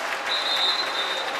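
Crowd at a high school varsity boys basketball game cheering and applauding, a steady, dense wash of clapping and noise that holds for the whole moment with a faint high tone running through it.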